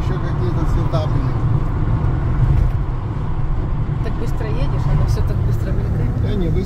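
A car drives at moderate speed along a city road in Buenos Aires, a steady close rumble of engine and tyres with someone talking over it throughout.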